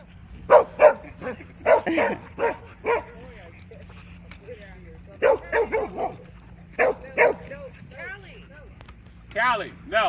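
Dogs at a dog park bark and yip in quick clusters of sharp, close barks with short whining yelps between them, separated by brief pauses, while people talk nearby.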